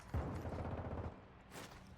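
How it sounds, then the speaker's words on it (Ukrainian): A short burst of rapid gunfire in Call of Duty: Warzone DMZ, fairly faint and distant-sounding, rattles for about a second before fading into quiet. "Що за стрільба?"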